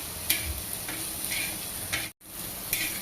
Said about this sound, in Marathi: ठेचा घातल्याच्या नंतर आपण सगळे व्यवस्थित असं मिक्स करून घेऊया